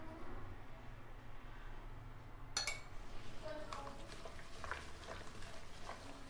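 A utensil scrapes and clinks faintly against a pot as chicken biryani is stirred with desi ghee, with a few light metallic taps over a quiet kitchen background.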